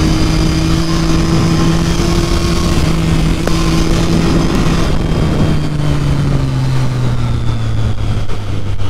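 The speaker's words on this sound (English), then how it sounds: "just because I'm riding a Triumph, just because I'm riding a Street Triple" A Triumph Street Triple 675 motorcycle rides on a hill road, its engine holding a steady loud drone that slowly drops in pitch, with wind noise throughout and no talking.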